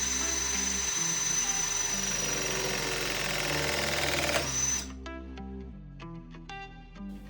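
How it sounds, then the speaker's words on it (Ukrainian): REMS press tool crimping a pipe fitting: a steady close motorised drone with a pulsing mechanical hum runs for about five seconds, then stops and leaves a few faint clicks as the jaws release. "Затискаємо і починаємо пресування."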